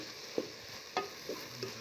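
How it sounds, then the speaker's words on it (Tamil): Round-sliced tomatoes sautéed in a pan for sambar give a soft, low frying sizzle, with a few quiet stirring scrapes at irregular intervals. "அந்த 100 கிராம் தக்காளியை வதக்கணும்"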